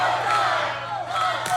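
An OVW wrestling crowd roars and cheers continuously after a chest chop lands on Adam Revolver, a dense, loud arena din with a sharper whoop near the end.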